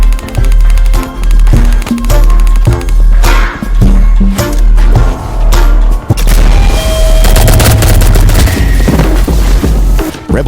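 Gunfire from the Roblox game Ink Games bursts out in loud, repeated booming volleys with short gaps, then settles into a denser stretch of noisy action sounds.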